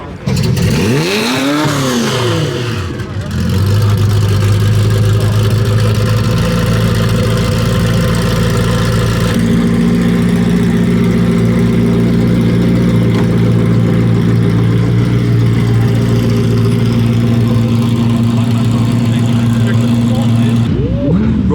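Several supercar and hypercar engines firing up and idling at the Goodwood Supercar Sunday breakfast club, including a Ferrari F50. A steady, loud low rumble runs throughout, with a brief rising rev near the start and people talking in the background.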